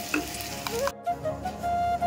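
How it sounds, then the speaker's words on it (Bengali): Paneer, potatoes and masala fry in oil with a steady close sizzle and stirring, broken by a brief pause before the crackle resumes; no one talks. "পনিরগুলো ভাজা হলো, আলুগুলোও ভাজা হয়ে গেল, আবার মশলাটাও এর তেলেই কষানো হয়ে গেল।"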